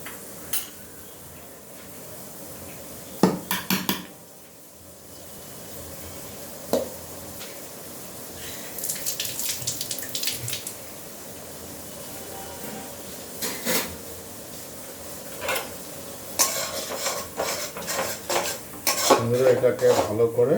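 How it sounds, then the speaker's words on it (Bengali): Onion with ginger garlic paste fries in a pan while a metal spoon scrapes and clatters against it in bursts, over a faint low sizzle, with occasional sharper knocks of utensils. "বন্ধুরা, এটাকে ভালো করে ফ্রাই করে নিতে হবে, নাড়াচাড়া করে নিতে হবে।"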